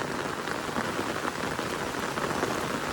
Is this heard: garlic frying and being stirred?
no